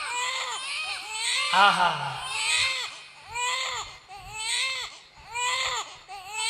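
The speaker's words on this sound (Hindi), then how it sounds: "बालक जोर जोर से रोने लगा।" A newborn baby cries loudly in repeated wailing bursts, each rising and falling, close and strong across the whole stretch, with a brief low voice near the middle.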